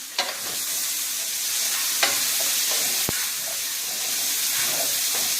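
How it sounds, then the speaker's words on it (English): Bacon, garlic and onion cook together in a pan for chicken carbonara spaghetti, giving a loud, steady close sizzle with a few sharp scrapes and clinks of stirring. "We're gonna cook the bacon and the garlic and the onion all together"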